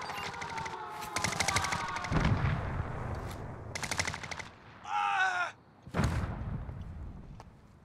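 Call of Duty Modern Warfare gunfire sounds in short, loud bursts separated by gaps, mixed with other in-game effects and a brief tonal alert sound.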